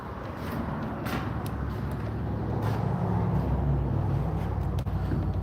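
Steady traffic rumble from cars passing on a road outside an uninsulated shed, moderately loud and continuous, with no talk over it.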